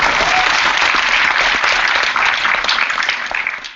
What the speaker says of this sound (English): Okay, we give it a round of applause.